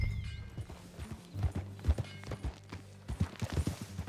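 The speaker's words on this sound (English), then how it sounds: "Get on your horse, John. Follow me. Let's ride." Horse hooves clip-clop at a riding pace in Red Dead Redemption 2, a run of uneven, fairly close thuds with a low rumble underneath, and no one speaking.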